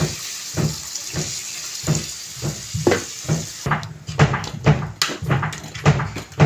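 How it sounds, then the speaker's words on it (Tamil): Water is poured into a pot of chicken curry (kuzhambu) during cooking, producing a series of close, rhythmic splashing gushes that grow busier and louder toward the end, with no speech. "தேவையான தண்ணி ஊற்றி கொஞ்சம் வேக வச்சுக்கலாம்"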